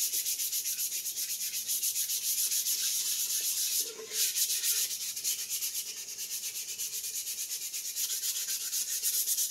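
Sanding spot putty off a 3D print: a steady, close, rapid back-and-forth abrasive rasp that keeps going for nearly ten seconds with only a short break midway.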